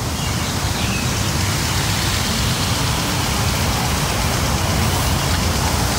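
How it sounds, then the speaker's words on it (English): Garden sprinklers spray water across a June garden of daylilies and palms, a steady, even hiss that runs unbroken and fairly loud throughout, with no voices. "Sprinklers are on, apologize."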